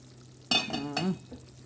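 Eggplant cooking in a hot pan gives a soft sizzle, with a brief louder stir or hiss near the middle of a short, quiet moment in a home kitchen.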